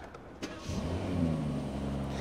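A Rolls-Royce car engine revs up from a low idle, swelling into a steady, deep, smooth hum that holds close and fairly loud with no talk over it.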